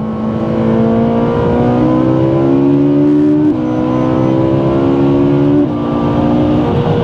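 A Ferrari 458 Italia engine revs hard and climbs through gears, with quick shifts breaking the rising whine; loud and close, no voices.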